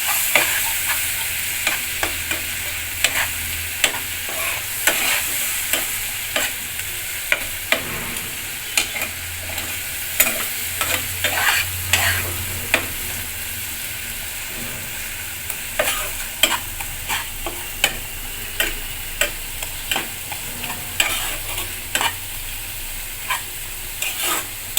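Spice masala being stirred and fried in a pan for Bengali muri ghonto with catla fish head, with a steady sizzle under repeated scraping strokes of the spoon, close and continuous.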